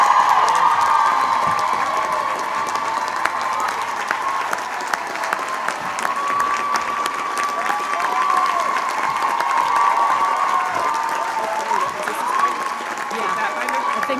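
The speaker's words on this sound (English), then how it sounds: "please join me in applauding the members of the class of" At the 2012 Barnard College graduation ceremony, a large audience applauds and cheers the graduating class: a long, steady roar of clapping mixed with whoops and crowd noise, filling the hall without letup.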